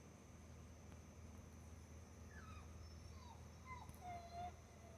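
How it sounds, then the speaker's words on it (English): Indoor dogs whimper and whine during an approaching thunderstorm, a few thin rising and falling cries scattered over a quiet, steady background hum, faint and somewhat distant, with no clear speech. "as you can hear the dogs, I have them in the house"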